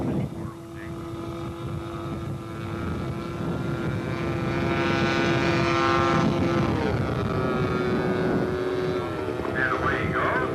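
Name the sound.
scale model airplane engine flying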